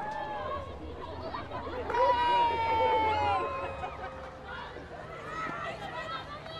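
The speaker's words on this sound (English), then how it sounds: "but the crowd enjoying themselves" Crowd at a women's hockey match between the USA and Australia, a lively chatter and cheering swell that rises then settles, heard under a commentator's talk.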